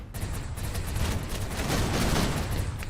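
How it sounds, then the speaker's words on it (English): Dense, continuous gunfire and explosive crackle from a RimWorld raid fill the whole stretch, loud and sustained, like a chaotic firefight with no voices. "I sort of ran into a bunch of gunfire there"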